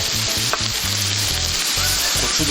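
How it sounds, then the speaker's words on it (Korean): Minced garlic and hot pepper stir-frying in a pan for a spicy Korean seafood champon, a loud continuous sizzle with rhythmic scraping strokes of a spatula close by. "다진 마늘 반 스푼 정도 함께 넣어서 볶아주겠습니다"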